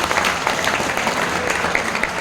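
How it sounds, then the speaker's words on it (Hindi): Audience of women clapping together at a motivational talk, a steady dense round of applause held throughout at moderate loudness. "एक बार इनके लिए मातृशक्ति की ताली हो जाए"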